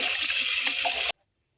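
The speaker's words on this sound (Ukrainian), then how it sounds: "Печіночку промиваємо." Chicken livers, a kilogram of them, are rinsed under running tap water in a kitchen, giving a steady close hiss of flowing water that cuts off abruptly into silence after about a second.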